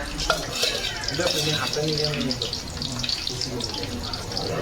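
Ground garlic and coconut masala is tipped into hot oil and stirred, giving a wet crackling sizzle with scraping and clattering of the spoon, close and fairly loud.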